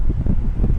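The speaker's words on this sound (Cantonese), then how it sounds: "好大風。" Strong wind blowing across the open ground of the Starbase launch site ahead of a SpaceX Starship launch, a loud low buffeting rumble against the microphone that surges and dips in quick gusts.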